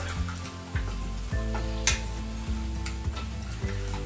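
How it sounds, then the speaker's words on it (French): Mussels poulette with curry being stirred in a hot pan, a steady sizzle and frying hiss under repeated scraping stirs and occasional clinks, with no voices. "Et après on mélange."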